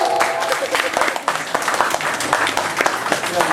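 An audience at a magic show in a Dubai palace bursts into a sustained round of clapping, dense and fairly close, with voices mixed in.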